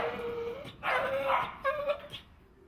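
Dogs at an animal shelter bark and yip in short, scattered bursts, some sharp and some whining, moderately loud and echoing in the kennel space.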